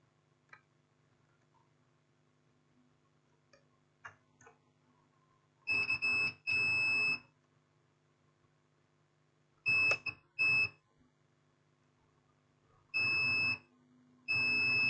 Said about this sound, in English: Here's beeping, and here's beeping.